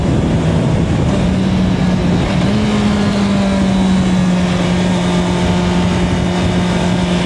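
A Honda CBR650R inline-four motorcycle engine on a road test drones steadily and loudly at high revs. The engine note shifts pitch slightly midway, with wind noise throughout.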